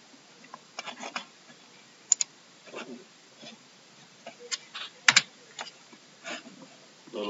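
Computer keyboard typing a web address, irregular bursts of light clicking keystrokes with brief pauses and a couple of sharper key taps, close and quiet, with no voices.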